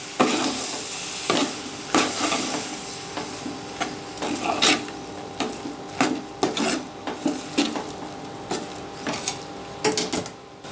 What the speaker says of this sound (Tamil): இதையும் நல்லா ஒன்றா சேர்ந்து கலக்கி கலறிடலாம்